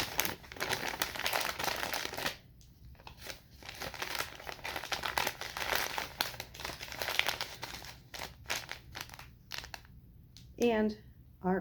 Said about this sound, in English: I've got just this very little bit of green and a very small piece of wrapping paper.